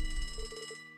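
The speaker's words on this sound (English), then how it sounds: "Phone ringing." A telephone rings in the video game Trails to Azure, giving a short series of bright electronic trills over a low game music bed, with no talk.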